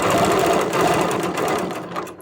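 A sewing machine stitches in the ditch across quilted string blocks, running steadily and loudly up close for a couple of seconds.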